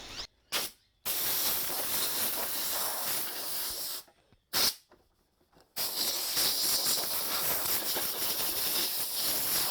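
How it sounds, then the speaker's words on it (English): Compressed air blasts under the hood latch of a Subaru WRX, with loud hissing bursts broken by short gaps and then one long continuous spray, all heard up close. "let's give it a bit of a charge with some compressed air"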